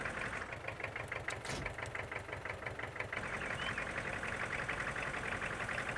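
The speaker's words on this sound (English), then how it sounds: "It sounds an awful lot like a little garden tractor" A small yard tractor engine in Farming Simulator 19 idles steadily with a rapid, knocking chug, close and continuous, like a little garden tractor running at low speed.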